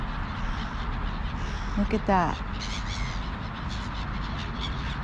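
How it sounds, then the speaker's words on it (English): Crows caw a few times in an evening outdoor scene where gulls are feeding, the harsh calls rising briefly over steady ambient noise while someone talks. "The crows are not so aggressive."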